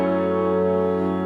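Sustained piano chords and guitar ring together in a song production, a dense, steady harmonic wash that holds throughout with no voices.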